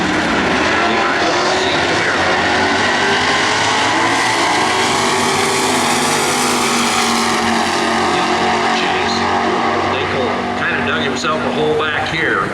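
A Plymouth Belvedere drag car with a 426 Hemi and automatic transmission runs at a points race, its loud, steady engine roar filling the whole stretch while an announcer talks over it.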